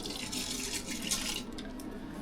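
Water runs steadily from a tap into a pot of pasta in a winter cabin kitchen, a soft continuous hiss and splash that thins out near the end.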